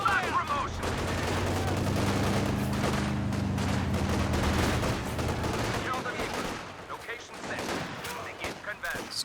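Company of Heroes 2 battle with sniper rifle fire, sharp shots within dense, sustained gunfire and a low droning hum for several seconds, thinning into scattered cracks near the end.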